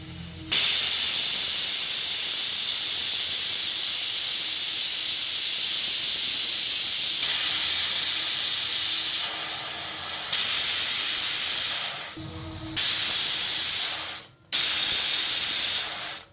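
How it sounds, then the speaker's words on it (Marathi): A pressure cooker cooking carrots with one jug of water lets out a loud, steady steam whistle and hiss that runs continuously, with a few short breaks and drops near the end, and no talking. "शिट्ट्या झालेल्या आहे। आता हे कुकर उतरून ठेवूया।"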